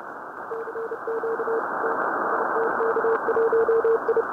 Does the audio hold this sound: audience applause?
no